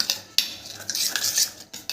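A metal spoon clinks and scrapes against a pan while stirring red chili into a spice paste for a Gujarati snack, with sharp taps between softer scraping strokes, close and alone.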